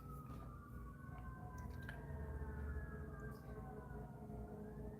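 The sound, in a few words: ambulance and police sirens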